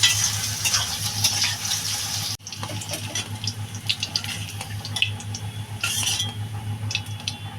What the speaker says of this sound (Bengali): সয়াবিন বড়িটা একটু লাল লাল করে ভেজে নেবো সুন্দর করে